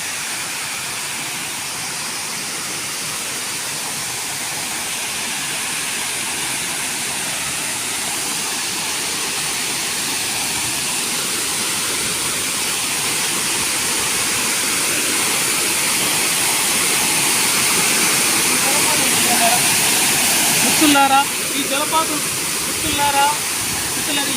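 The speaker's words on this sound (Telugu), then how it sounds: "ఇప్పుడేమో దగ్గరగా చూపించడం జరుగుతుంది జలపాతం" A waterfall roars steadily from close range, a dense broadband rush of falling water that grows slightly louder toward the end, with someone talking briefly over the noise near the close.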